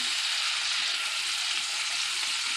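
Onions frying in a pan of leftover bacon fat give a steady, bright, continuous sizzle, close and even throughout with no talk.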